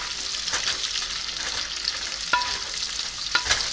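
Sweet potatoes being caramelized in a pan, a continuous bright sizzle broken by several sharp scraping stirs of a spoon against the pan, close and with no talk.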